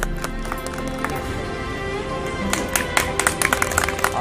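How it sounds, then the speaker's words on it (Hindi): Crowd applause welcomes a mahant and guests at an International Day of Yoga camp, steady clapping from many hands that swells into sharper, louder claps toward the end. "एक बार इनके लिए जोरदार तालियां"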